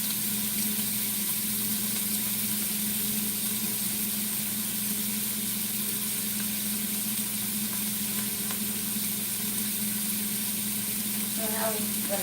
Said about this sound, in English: And saute this just a bit.